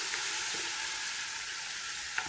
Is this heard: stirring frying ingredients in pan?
yes